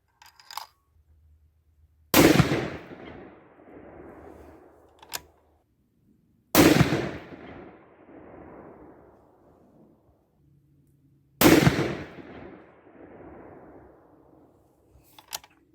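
Three loud, close rifle shots from a 6.5 PRC Bergara B-14 HMR firing 140gr SST rounds, each a sharp crack followed by a long rolling echo, spaced several seconds apart.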